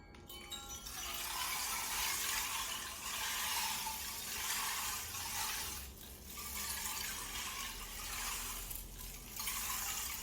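A stream-effect water instrument for sound meditation gives a steady, close rushing trickle of running water, swelling and easing gently throughout with no voices.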